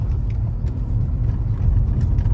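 Interior of a BMW E60 M5 with a 6-speed manual rolling over train tracks, a steady low road rumble and engine drone with faint soft knocks from the crossing, no voices.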